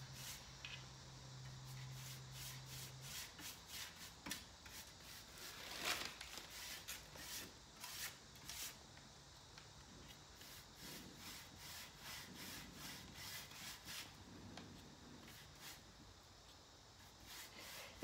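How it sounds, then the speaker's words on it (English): A t-shirt rag wiping excess paint off a flea-market chair, giving soft, close rubbing strokes repeated steadily throughout at a quiet level. "And I'll take a t-shirt rag and kind of wipe off the excess too."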